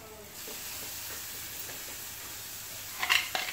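Capsicum going into a pan of softened onion sets off a steady, moderate sizzle and hiss, followed near the end by a couple of sharper stirring clinks close by.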